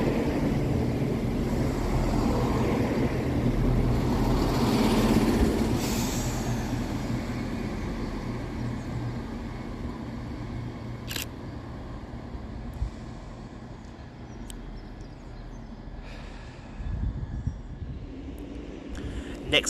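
A Scotrail train pulls into Edinburgh Haymarket station with a low rumbling roar that fades to a quieter hum, with a few sharp clanks and station noise near the end.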